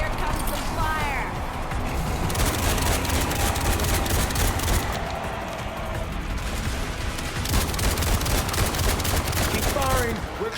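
Sustained gunfire in Resident Evil Requiem rattles on continuously, dense and loud, with occasional crashing impacts, while voices talk over the shooting.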